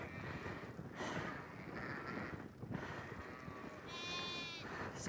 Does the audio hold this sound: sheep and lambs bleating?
yes